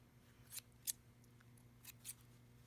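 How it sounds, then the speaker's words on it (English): Scissors snip sewing threads on a fabric bean bag, three or four short crisp cuts spaced apart at close range over a low steady hum, with no talking. "Then you're going to trim your threads."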